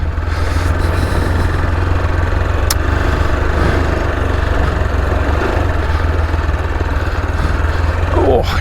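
A 165-kilo AJP motorcycle engine runs steadily while descending a steep mountain trail in the Victorian High Country. It gives a constant close engine drone with a low rumble.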